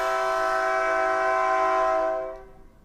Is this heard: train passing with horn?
yes